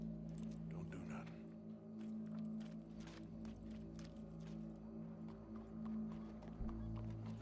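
Horse hooves clip-clopping in the Red Dead Redemption 2 video game, a steady run of soft hoof beats under a constant low hum with faint voices.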